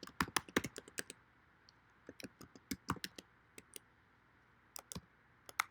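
Someone types on a computer keyboard while filling in an online form. The key clicks come close and crisp in quick irregular bursts, separated by short pauses.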